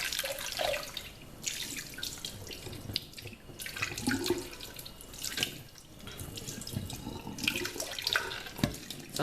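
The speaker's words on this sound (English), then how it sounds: "Just rinse it a bit." A kitchen tap runs to rinse a blender jar, a steady splashing water stream with brief drips and sloshes as the jar is moved about, close and moderately loud.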